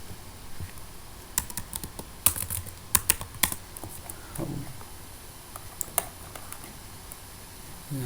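Computer keyboard typing HTML code, a sparse run of crisp, close key clicks with uneven pauses and a few louder taps over quiet room noise.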